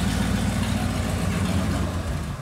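The engine of a 1972 Jeep CJ5 runs with a steady, loud, low rumble that holds evenly from start to finish and fades only slightly near the end.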